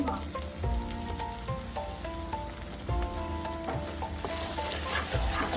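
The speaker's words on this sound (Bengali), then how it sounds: "মশলাটা ভালোভাবে ভাজা হয়ে গেছে, কষানো হয়ে গেছে" Spice paste for chana and soya kofta curry fries in a pan, a steady crackling sizzle with occasional stirring scrapes and faint background music tones throughout.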